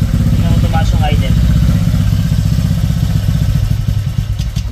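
A high-odometer motorcycle engine idles roughly and unevenly, running rich and uneven after a start, loud and close with a clattering, pulsing rumble throughout while someone talks over it.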